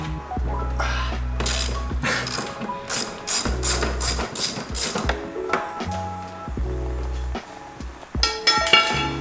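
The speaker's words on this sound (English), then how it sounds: "Right now I'm removing this left side V-brace just to make more room to remove the valve cover gasket." Close, loud ratcheting as a wrench loosens bolts on a BMW V-brace beside the engine's valve cover, fast clicking runs broken by pauses, with a few metallic clinks.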